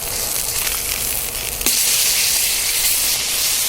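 Surf and turf sizzling and hissing on a Mojoe griddle after being flipped, a loud continuous fry that jumps louder midway as the food hits the hot surface.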